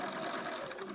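A sewing machine runs in a short continuous burst, stitching straight down a small fabric skirt for an 11.5-inch doll, close and moderately quiet.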